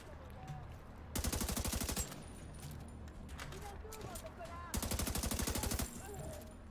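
Automatic weapon with heavy recoil firing in The Division 2: two loud, rapid bursts of about a second each, separated by a quieter stretch, with a voice talking throughout.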